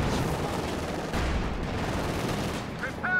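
Continuous rumbling gunfire from a tank battle in Company of Heroes 2, near a Panzer IV, a dense unbroken barrage of blasts that fills the whole stretch, with brief clicks near the end.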